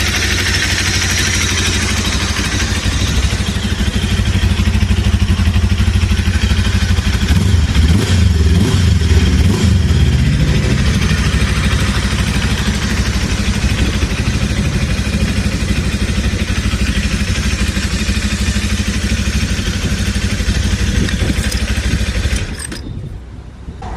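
A Zonsen Cyclone motorcycle engine, not yet warmed up, runs steadily and loudly at idle with a rough, clattering low rumble throughout, cutting off abruptly near the end.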